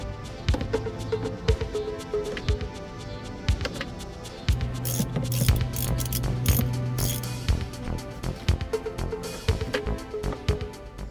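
A ratchet wrench unscrews an oil pressure sensor on a car, giving rapid clicking pawl bursts up close with a brief steady whir midway.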